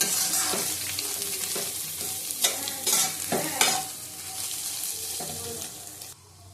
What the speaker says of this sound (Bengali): একটু নুন দেবো একটু গোলমরিচ দেবো ভালো করে ভেজে নেবো